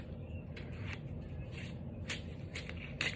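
Tarot cards shuffled by hand, soft quiet riffling and papery flicks in short bursts over a low room hum.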